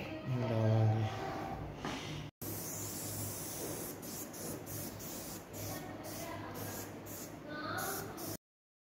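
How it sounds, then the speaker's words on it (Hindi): Body spray hisses from an aerosol can in a long, steady, close spray lasting several seconds, with a brief pause partway through, after a short voiced sound at the start. "बाडी स्प्रे ला लो के जुम्मे की तैयारी कर रहे"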